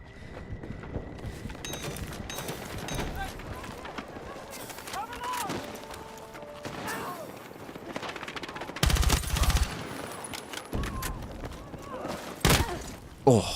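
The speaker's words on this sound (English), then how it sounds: "Oh, that shotgun's crazy." Loud shotgun blasts in Battlefield 6 punctuate ongoing gunfire and battlefield chaos, with several sharp bursts spaced across the stretch while someone talks over the action.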